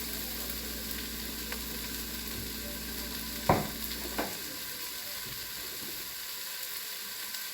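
Onions frying in olive oil in a single pot for chili, a steady close sizzle throughout with a couple of sharp clinks partway through, no talking.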